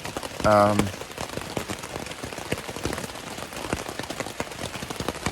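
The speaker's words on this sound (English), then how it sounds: "Non-stop rain." Steady rain patters on a tent, a dense field of close drops and ticks, with a brief voice near the start.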